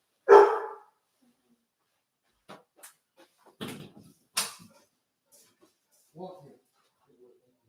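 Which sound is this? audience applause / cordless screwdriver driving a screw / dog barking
dog barking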